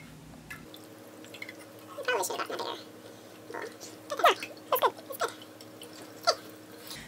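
Trifle ingredients being strained, with liquid dripping in a series of soft, irregular drips and small splashes close by, most of them bunched between two and seven seconds over a quiet room background.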